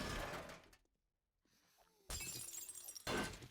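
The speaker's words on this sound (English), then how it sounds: "I didn't realize that the window broke in half" Window glass shatters in the 7 Days to Die survival game, a loud crash that cuts to near silence before another bright burst of breaking glass and a second sharp smash close up.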